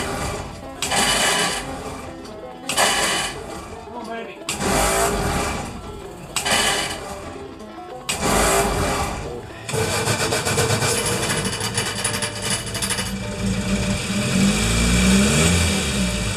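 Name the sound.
Crosley car engine starting and running cold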